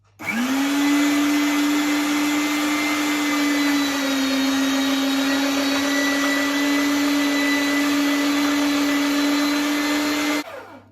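A blender grinds hot liver pâté with melted butter, a loud steady motor whine running for about ten seconds before it cuts off.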